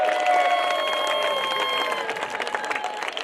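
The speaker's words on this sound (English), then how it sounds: "Give him back a round of applause." Applause from the crowd at a cricket tournament awards ceremony, dense and fairly loud at first, mixed with background voices and ringing tones, thinning out toward the end.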